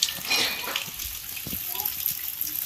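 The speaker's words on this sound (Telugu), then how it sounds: "ఆ కొండ సర్కిల్లో నుంచి వేర్ల దగ్గర నుండి వాటర్ అయితే కిందికి వస్తున్నాయి" Spring water runs down from a rocky hillside through tree roots, giving a continuous close splashing gush with no pauses.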